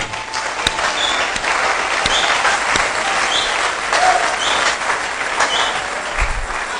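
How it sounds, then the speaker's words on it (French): A church congregation applauds during a sermon, producing a loud, dense wash of clapping that stays steady and sustained for the whole stretch. "Acclamez."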